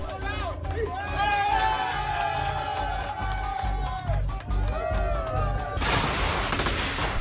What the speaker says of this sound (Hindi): रॉयल कंबोडियन आर्म्ड फोर्सेस के ठिकानों पर लगातार गोलियां बरसा रहे हैं।